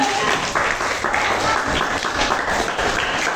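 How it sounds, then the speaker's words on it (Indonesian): A crowd at a children's speech practice event claps and applauds steadily for several seconds, dense and continuous, with voices faintly mixed in. "Boleh tepuk tangan lah, boleh semangat."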